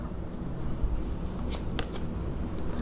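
Tarot cards being shuffled in a quiet indoor space, a few soft riffling bursts and crisp flicks spread across a few seconds over low background hiss.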